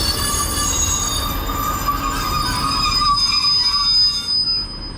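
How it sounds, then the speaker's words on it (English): Train 15101 arriving at a platform on the East Lancashire Line, with steady loud rumbling and sustained high-pitched wheel squeal, no voices. "Right, arriving in is 15101. This is the next train we're getting."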